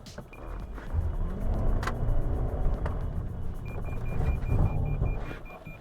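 A Toyota RAV4 hybrid drives steadily toward a pedestrian dummy during an automatic emergency braking test, low engine and road rumble inside the cabin, a faint electronic tone sounding intermittently, no talking.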